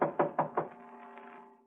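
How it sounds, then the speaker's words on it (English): Four quick, firm knocks on a door, evenly spaced and close, each followed by a short hollow ring that fades away into quiet. "Then I knocked again."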